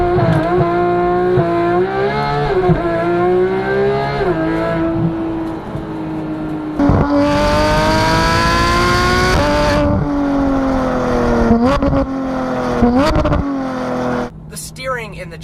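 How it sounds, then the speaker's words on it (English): 2015 Porsche GT3 flat six with an IPE F1 exhaust, loud and close, revving hard through rising gear pulls with shift breaks and a sharp high-pitched wail, no talking. "let you listen to this incredible sounding flat six"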